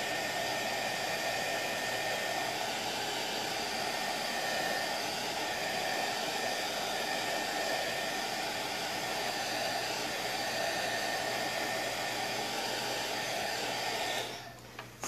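A hair dryer runs in a continuous, steady loud whoosh for most of the time, drying a handmade rustic coat rack craft piece, then cuts off near the end.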